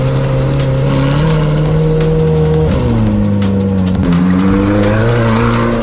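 A rebuilt, previously crashed McLaren 720S roars loudly up close as it accelerates, engine pitch climbing and dropping through shifts, with tires squealing and skidding throughout.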